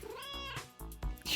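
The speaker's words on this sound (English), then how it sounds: "Press either left trigger or right trigger to meow." A cat in a video game lets out several short, close meows in quick succession, tonal and slightly whiny, alone without talk.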